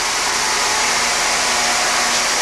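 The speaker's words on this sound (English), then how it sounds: "That's now the vacuum right there." A central vacuum system sucks up scraps with a loud, steady broadband roar that holds unchanged from start to finish.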